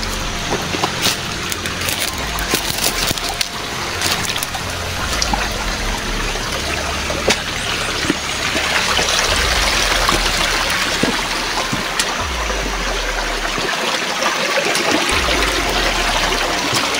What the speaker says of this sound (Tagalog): Babaybayin natin tong ilog na to mga kaidol, no?